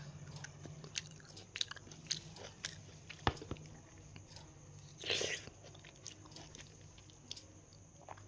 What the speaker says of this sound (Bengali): আমি তো লেবুটাকে পুরো একদম চিবিয়ে চিবিয়ে ছোলাটাও পুরো খেয়ে নিই